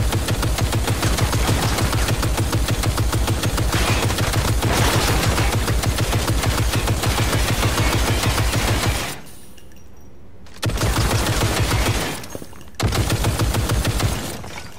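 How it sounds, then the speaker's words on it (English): A machine gun fires in the video game Cyberpunk 2077, long loud bursts of rapid, even shots, broken by two short pauses before firing resumes. "Machine gun."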